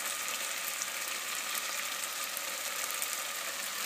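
Pork ribs and lean meat fry in a pan with softened carrot, giving a steady, loud, unbroken sizzle throughout with no voices.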